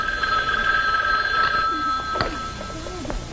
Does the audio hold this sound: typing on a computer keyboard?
no